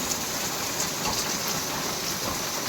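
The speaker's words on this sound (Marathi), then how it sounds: "आता पाऊस थोडाफार कमी झालेला आहे" Steady, dense unseasonal storm rain pours down in a continuous hiss, fairly loud and close, with no voices over it.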